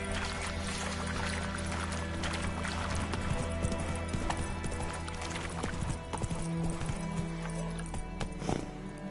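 A ridden horse's hooves clip-clopping in a steady rhythm close by, loud over dense continuous background noise, with a faint voice briefly audible.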